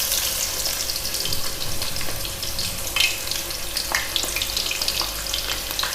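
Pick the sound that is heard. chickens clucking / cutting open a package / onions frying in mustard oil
onions frying in mustard oil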